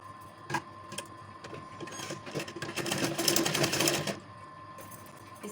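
A sewing machine runs steadily, stitching cord piping onto folded fabric, with a continuous mechanical whir that builds in the middle and stops near the end; no voices.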